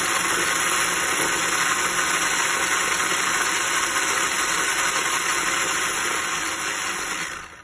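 A vintage four-wheel-drive Scalextric slot car, its small electric motor held at an angle and running on increased voltage, whirs in a steady, loud, continuous buzz that holds for several seconds and then tails off at the end.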